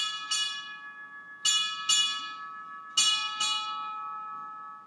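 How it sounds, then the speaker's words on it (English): A ship's bell strikes six bells at a naval change-of-command ceremony: three pairs of bright, ringing strikes with lingering decay, each pair closely spaced and separated by short pauses. "Strike, 6 bells."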